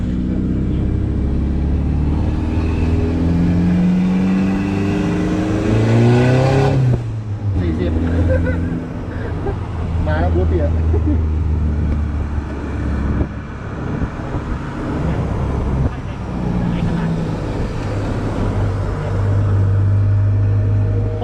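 A car engine after an ECU remap revs and drones while driving, with rising and falling engine tones and steady road rumble under ongoing conversation inside the cabin.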